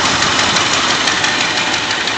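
A Rolls-Royce Silver Shadow engine with a faulty manifold runs steadily nearby, with a dense, continuous rough rumble and a knocking undertone and no pauses.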